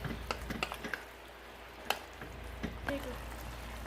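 Kimchi jjigae stirred in a pot with onion and sugar, soft wet squishing and scraping with occasional utensil clinks over a low simmering hiss, faint and close.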